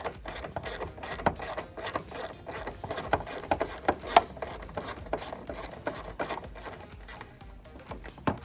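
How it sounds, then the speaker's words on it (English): An 8mm wrench turns out the headlight screws on a 2015–2023 Dodge Charger, making quick, close, repeated metallic clicks and ratcheting scrapes that sound fairly quiet. "to remove the screws, you'll need a 8mm wrench, just like that"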